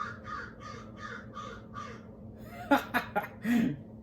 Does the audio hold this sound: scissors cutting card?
no